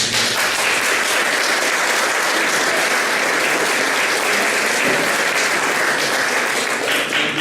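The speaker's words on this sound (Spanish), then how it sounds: "Bien, quisiera que le diéramos un aplauso a Carlito Yáñez" Loud, sustained applause from a conference audience at a national congress, a dense and even roar of clapping lasting several seconds without letup.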